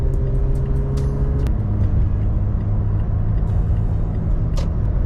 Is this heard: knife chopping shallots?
no